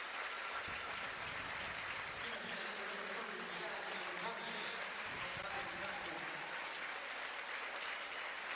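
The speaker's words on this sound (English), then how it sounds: "she gets a hand from the crowd as she's helped up" A basketball crowd at a 3A girls' championship game applauds an injured player as she is helped up, a sustained wash of distant clapping filling the gym.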